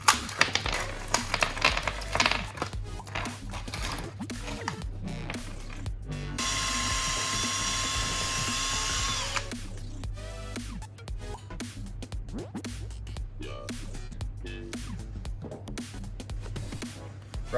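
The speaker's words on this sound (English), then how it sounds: "I'll just get a drill bit." A power drill bores bolt holes through a rubber mudflap for a Toyota Hilux, with a sustained whine for a few seconds in the middle, surrounded by close clicks, rattles and handling noises.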